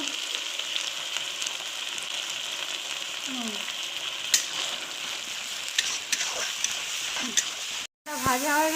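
Fried onion sizzles in a pan as coriander, cumin and chilli powder are added, a continuous close hiss with occasional clinks and scrapes; a voice speaks faintly over it.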